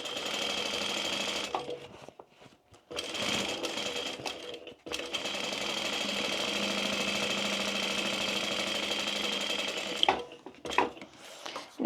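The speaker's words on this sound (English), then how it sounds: "And the other side we sew completely." A sewing machine stitches completely down one side of a fabric gift bag, a steady close mechanical whirr running for several seconds with brief pauses and restarts in between.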